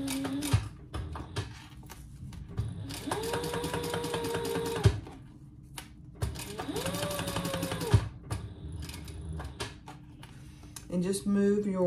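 A sewing machine stitching a wallet bag close to the seam, running slowly over a thick hump in two long steady bursts separated by short pauses, with a voice at moments.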